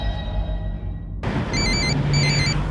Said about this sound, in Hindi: मैडम जी, किसी का फोन आ रहा है।